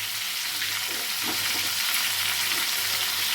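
Fish pieces coated in turmeric frying in hot oil, giving a loud, dense, continuous sizzle heard close up, with faint stirring underneath.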